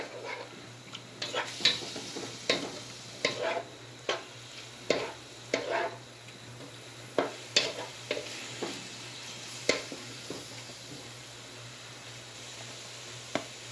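Chicken and rice being stirred in a pot for Cuban-style arroz con pollo: a series of distinct scraping, clacking spoon strokes in a loose rhythm over a low, constant sizzle, close and fairly loud, no talking.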